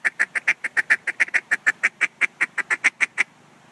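A duck call blown in a fast run of about twenty evenly spaced quacks, loud and close, each short sharp note steady in rhythm before stopping abruptly.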